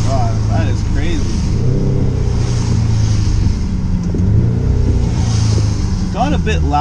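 A steady, loud engine drone fills an Audi S3 cabin after a CTS turbo intake and inlet install, with a few rising revs, and an excited voice talks over it throughout.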